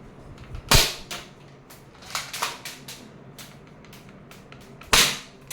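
A realistic toy pistol fires with sharp, close cracks, two loud snaps about four seconds apart and a cluster of lighter clicks and pops between them, no talking.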